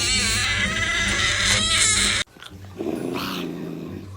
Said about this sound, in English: Hard to believe such a small cat makes this sound.